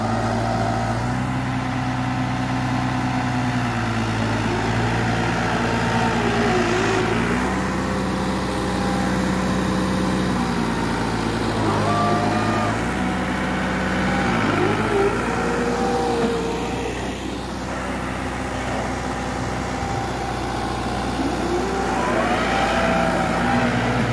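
New Holland 7500 tractor engine laboring as it drags an eight-foot desi jatra through a pit, loud and close, with the pitch repeatedly rising and sinking as the revs surge and bog down, and no talking.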